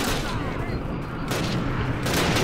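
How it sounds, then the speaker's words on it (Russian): Grenade blast in a Call of Duty game, a dense roaring burst with rumbling debris and a second swell near the end, loud and close throughout. "Где-то граната сыграла"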